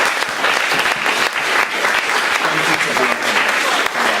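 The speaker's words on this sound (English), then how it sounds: "Can we give Gary another big round of applause" A lecture audience gives a strong round of applause, sustained dense clapping from many hands, with a faint voice briefly audible beneath it.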